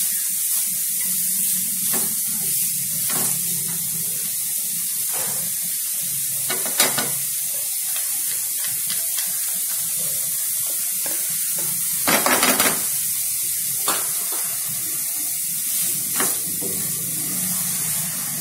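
Capsicum sizzling steadily in a hot pan while being stirred, with scraping and clinking bursts of the spoon at intervals over a constant frying hiss, close and fairly loud, no talk.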